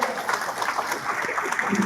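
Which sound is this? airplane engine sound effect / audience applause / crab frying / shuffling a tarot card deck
audience applause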